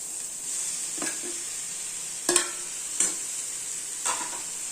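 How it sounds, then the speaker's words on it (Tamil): Bottle gourd and grated coconut sauté in a pan with a steady, close hiss of frying, broken by a few sharp scrapes of a spoon stirring; no one speaks. "சும்மா ஒரு வதக்கிட்டு சொரக்காயும் அதிலே போட்டுக்கலாம்."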